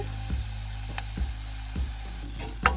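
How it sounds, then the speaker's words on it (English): Red onion and garlic sauteing with cayenne and cumin, a steady loud sizzle in a pan with a few soft stirring knocks and scrapes, close and continuous. "sauteing some red onion and garlic. Then I'm going to add in a bit of cayenne pepper, cumin"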